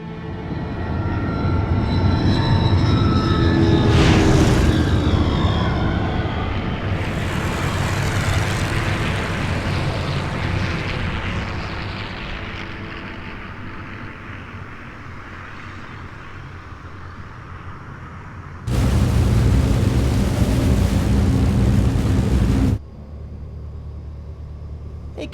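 Airplane in flight in the PlayStation 1 game Aconcagua: a loud, steady engine drone with swelling whooshes, easing toward the end before a sudden burst of harsh noise and a return to a lower hum.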